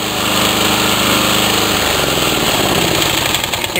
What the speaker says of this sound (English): How do you turn the lawnmower off?